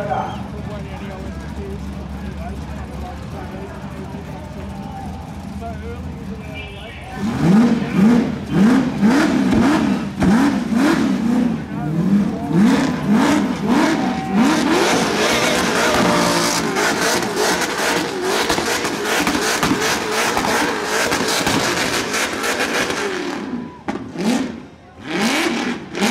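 A 409 cubic inch car engine revs hard during a burnout at the Summernats 32 Burnout Championship, rising after a quieter opening into repeated loud wailing revs that hold to the end, with crowd noise around it.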